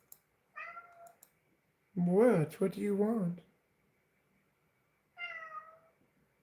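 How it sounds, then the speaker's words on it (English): A cat meows a few times close by, with short harmonic calls near the start and end of the clip and a voice talking to it in between. "Yes, I hear you meowing"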